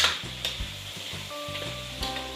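Back fat chicken afritada sizzles in a hot pan while a utensil stirs it in repeated scraping strokes, close and clear with no talking.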